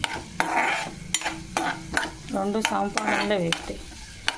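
Vegetables fry in a pan with a steady sizzle, punctuated by regular clacks and scrapes of a spoon stirring against the metal, close and fairly loud.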